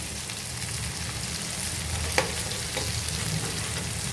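Gulivinda fish frying in a pan, both sides being browned, with a dense continuous sizzle and crackle at close range and a faint knock midway, no talking.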